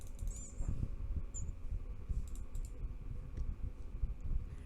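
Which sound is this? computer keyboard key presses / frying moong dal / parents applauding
computer keyboard key presses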